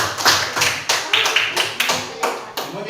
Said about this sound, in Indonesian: Oke, tepuk tangan untuk Ais.